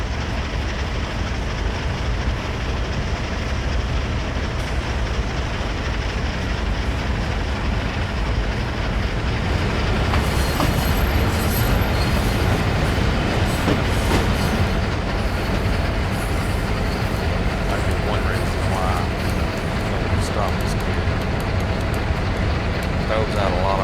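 A freight locomotive runs along an open stretch of riverside line in New York in Train Sim World 6, producing a loud, steady engine drone and rail rumble with faint rhythmic clatter, while a voice talks over it.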